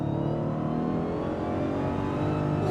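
A Dodge Demon 170's engine pulls hard under throttle in a car cabin, a dense, loud, rising growl with layered harmonics, steady and unbroken with no talking.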